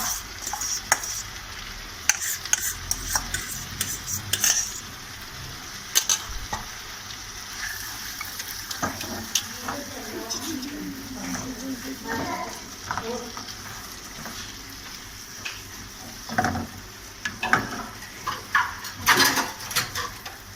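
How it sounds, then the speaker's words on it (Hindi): Boiled potatoes being stirred and mashed into sizzling fried masala in a pan, with continuous frying hiss, repeated scraping and knocking of a spoon against the pot, close up and without talk. "थोड़ा सा और मैश कर लें आलूओं को"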